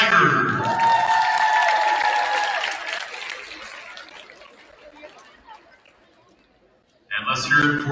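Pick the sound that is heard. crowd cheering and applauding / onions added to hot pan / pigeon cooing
crowd cheering and applauding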